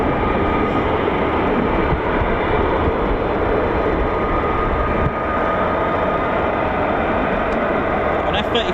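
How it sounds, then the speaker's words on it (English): An F-15 fighter jet taxis at RAF Lakenheath with a loud, steady, broadband engine roar that stays constant throughout, heard close by and continuous with no breaks. "Got one F-15 that's gone back, one on its own, one taxiing out."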